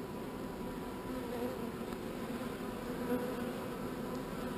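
Honey bees buzzing around an open hive with a frame left on top, a steady, continuous hum from many insects close by, fairly soft with no voices.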